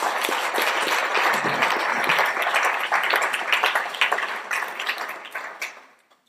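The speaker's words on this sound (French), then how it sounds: "Je vous demande de l'applaudir" An audience applauds at a French arts and architecture awards ceremony, dense steady clapping that stays full for about five seconds and then thins and fades out at the end.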